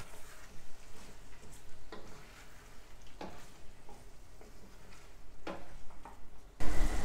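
Tomatoes dropped into a hot pan sizzle steadily, with scattered scraping and stirring clatters over a continuous frying hiss and a louder burst near the end.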